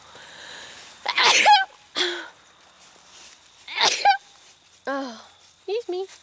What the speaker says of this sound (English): I've got a sneeze coming on.